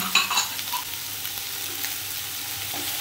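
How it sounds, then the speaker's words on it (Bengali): Chopped onion, ginger and garlic fry in a pan for chicken stew, giving a steady hissing sizzle with a few clinks of a spoon at the start. "এটাকে একটু হালকা করে আমি ভেজে নেব।"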